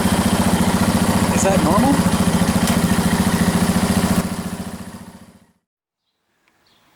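A KTM 690 Enduro engine runs in first gear with the clutch pulled in, a close, steady mechanical rumble that fades and cuts out after about five seconds, with a person briefly speaking over it.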